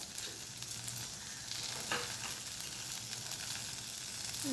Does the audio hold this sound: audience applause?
no